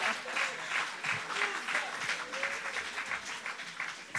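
A church congregation clapping and cheering in worship, with bursts of applause mixed with voices that fill the room and carry throughout.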